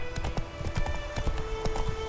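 Roach, Geralt's horse in The Witcher 3, gallops with steady, loud clip-clop hoofbeats in a quick repeating rhythm, set against continuous game music.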